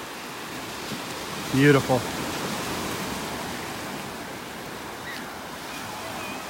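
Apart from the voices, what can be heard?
ocean waves on beach at Delnor-Wiggins, Naples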